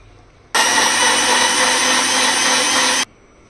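A kitchen blender whirs loudly and steadily for about two and a half seconds while blending a mango shake with milk and gond katira, starting and stopping abruptly against a quiet room.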